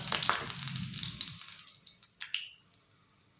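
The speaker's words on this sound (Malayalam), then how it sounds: "കടുകൊക്കെ പൊട്ടി വരുന്നുണ്ട്" Mustard seeds, urad dal and curry leaves crackle and spit in hot oil, tempering for a coconut pickle; a dense burst of sharp pops and sizzling, close and loud at first, thinning to scattered single pops.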